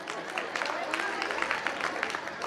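Audience clapping at a Jain religious gathering in India, dense and steady crowd applause with scattered sharp claps running throughout, fairly close, with voices mixed in.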